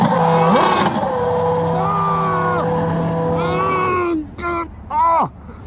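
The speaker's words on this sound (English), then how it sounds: "love the sound of a twin cam. It's engine noise you're hearing, not tricked up." A twin-cam car engine revs hard, its pitch swinging up and down through several pulls, and then breaks off into excited shouting voices near the end.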